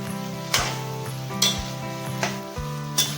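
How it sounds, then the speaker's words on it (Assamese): Chicken pieces sizzle steadily in a hot pan for a chicken curry, broken by about four sharp metal scrapes and clinks from a stirring utensil, close and alone with no voices. "ভালকৈ চিকেনখিনি ভজা ভজা হ'ব লাগিব।"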